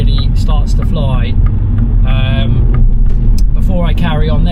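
A 2024 Mini Cooper S accelerates through the gears, its engine note rising in repeated sweeps under a steady low rumble inside the cabin, heard close and loud.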